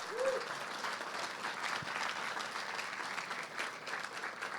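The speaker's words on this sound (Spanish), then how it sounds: "aplauso al Señor esta mañana." A church congregation at a Sunday service claps in steady, even applause lasting several seconds, moderately distant with a faint voice briefly audible at the start.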